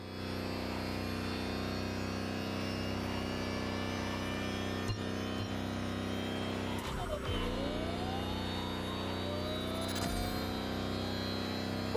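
A Lamborghini engine in The Crew Motorfest drones steadily at full throttle, a constant loud hum with a couple of brief gear-change dips and rising pitch sweeps.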